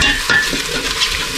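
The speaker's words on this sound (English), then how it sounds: "And just stir that in" Tomato paste stirred into a hot pan, with a steady close frying sizzle and quick scraping strokes of the spoon.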